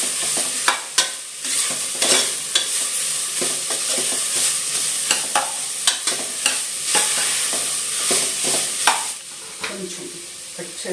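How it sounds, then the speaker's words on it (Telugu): Seasoning seeds, onions, curry leaves, carrot pieces, spinach and beans sizzle in ghee while a spoon scrapes and stirs the pan in frequent sharp clinks over a steady frying hiss. "పోపు గింజలు, ఉల్లిపాయలు, కరివేపాకు, క్యారెట్ ముక్కలు, పాలకూర, బీన్స్ అన్నీ కూడా వేసి అయితే ఫ్రై చేసుకుంటున్నాను."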